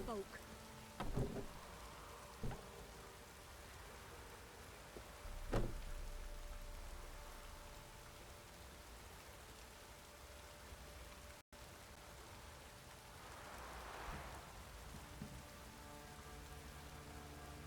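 Soft, steady rain patters in The Witcher 3, a quiet continuous hiss under a muffled game ambience, with a few thumps and a brief swell of noise partway through, and a voice speaking faintly.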